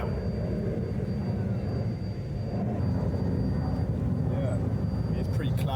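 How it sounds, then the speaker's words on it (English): Airplanes pass overhead outdoors on a cloudy day as a steady, continuous low rumble that holds throughout. "Oh, and I've got planes going by as well."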